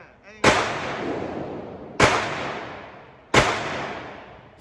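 Three loud, sharp gunshots at an outdoor gun range, each a sudden crack with a decaying tail, spaced roughly one and a half seconds apart.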